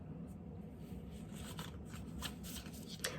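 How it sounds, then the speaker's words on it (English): Tarot cards are shuffled in a soft riffling patter that builds toward the end, faint and close against a quiet room hum. "I'm picking up the cards so I can shuffle them back in and keep talking."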